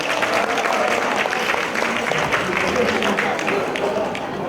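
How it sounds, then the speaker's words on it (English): Audience applause at a stand-up comedy show for scholars: steady, fairly loud clapping mixed with crowd murmur and cheering over a few seconds. "I think all of you deserve a big round of applause for that."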